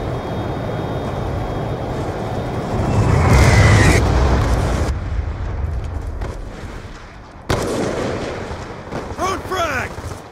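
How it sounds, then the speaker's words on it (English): Hellstorm missile strike in Black Ops 2 multiplayer, a loud rumbling roar that swells into a heavy boom and then cuts off, followed by a second blast, with a voice talking over it. "Hellstorm missile inbound."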